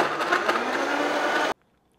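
A blender whirring steadily as it purees a smoothie with coconut water, loud and close, running for about a second and a half before cutting off abruptly into silence.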